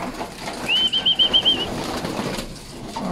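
Pigeons' wings flap in a quick burst of beats nearby as they return to the loft, with a thin whistling tone over them, then fade into soft rustling.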